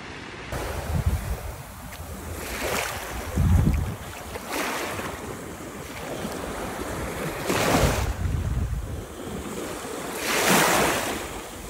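Sea waves washing onto a beach, heard close as steady rolling surf with a crash every two to three seconds, mixed with wind rumbling on the microphone and no voices.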